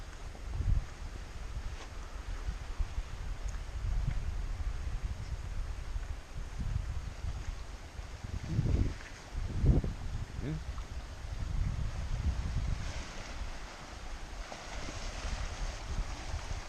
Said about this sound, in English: It's going to be a little bit windy, so bear with me.